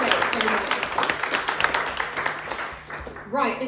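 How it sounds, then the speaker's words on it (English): An audience at a spoken word performance claps in a dense patter of applause that fades toward the end, and a voice starts speaking at the close. "if we can have another round of applause for both Francis and Lorna for making this happen"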